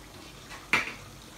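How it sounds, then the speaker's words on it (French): A single short clatter and splash as cooked amaranth greens drop into a colander, one quick burst over a quiet kitchen background. "Nous allons le passer à la passoire."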